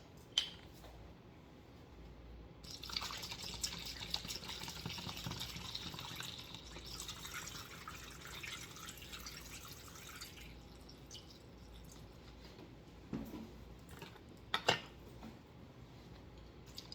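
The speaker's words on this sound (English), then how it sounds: "Then I fill them with filtered water." Filtered water pours steadily into containers for a homemade Thieves laundry detergent, a hissing stream running several seconds, followed by a few drips and light clinks of the containers.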